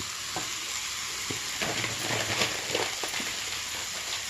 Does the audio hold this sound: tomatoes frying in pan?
yes